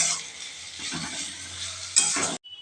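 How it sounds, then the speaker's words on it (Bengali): Chopped vegetables with salt fry in a hot pan for masala oats, a steady bright sizzle with stirring scrapes and a louder burst of frying near the end before it cuts off abruptly. "দিয়ে খুব ভালো করে আনাজগুলো ভেজে নিতে হবে"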